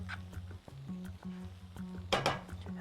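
Ingredients with coconut are stirred in a bowl, giving quiet irregular scraping and clinking of a utensil against the bowl, with one brief louder clatter near the end and no talking.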